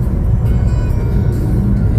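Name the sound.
road traffic, cars passing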